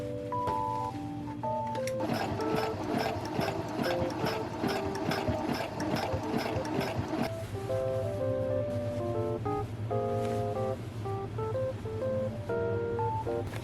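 A sewing machine stitches fabric for cosplay thigh-high stockings in fast rhythmic bursts of needle clatter, with a motor hum beneath. A stretch of rapid sewing is followed by pauses and shorter runs.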